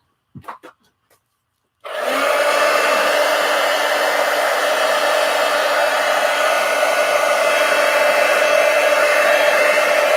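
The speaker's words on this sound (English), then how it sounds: "Let's hit it with the heat gun." After a few light taps, a heat gun switches on and blows hot air in a loud, steady whoosh close by that continues without a break to the end.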